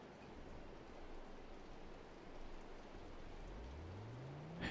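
Steady rain hiss from the Grand Prix 4 racing game, a faint even wash of falling rain during a wet session in Melbourne, with a low rising engine tone creeping in near the end.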